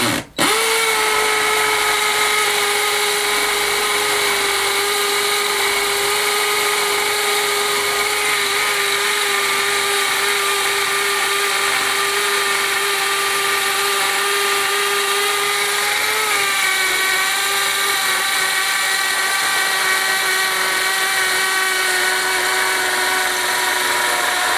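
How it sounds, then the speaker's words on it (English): A power drill bores an 11mm hole into the stone of a Catalan vaulted staircase, a steady, loud, continuous whine lasting the whole stretch, its pitch dipping briefly partway through as the bit bites harder, with no talk. "So I'm going to do an 11mm hole into the stone."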